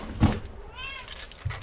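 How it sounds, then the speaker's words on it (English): Domestic cat meowing indoors, hungry and wanting out of the room: a single close, short meow with a faint low call near the end, the cat alone. "Cat's hungry, yep."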